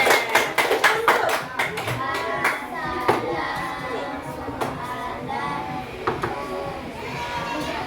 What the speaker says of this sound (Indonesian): Tepuk tangan buat temannya dulu.